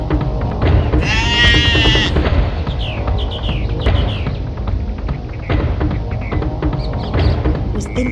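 A goat grazing near a forest in a Hindi story lets out one loud, wavering bleat early on. A steady, layered background continues underneath, with faint higher calls afterward.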